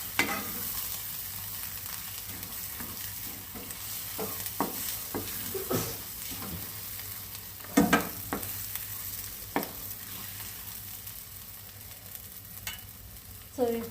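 Prawns fry in masala in a pan, a constant sizzling hiss broken by repeated sharp spatula scrapes and taps as they are stirred, with no voices.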